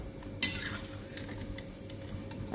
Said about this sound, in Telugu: ఇది గులాబ్ జామున్లన్నీ ఇట్లా మంచి కలర్ వచ్చే వరకు కాల్చుకోవాలి.